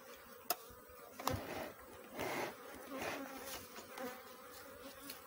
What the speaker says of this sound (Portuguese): O enxame é pequeno.